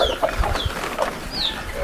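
Free-range chickens on a poultry farm give soft repeated clucks, several birds close by and overlapping. There are no voices.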